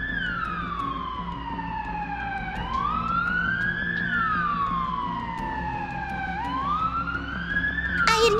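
Ambulance siren in an animated cartoon, a loud wailing tone that sweeps slowly up and down in long repeating cycles, steady and close throughout with a brief burst at the end.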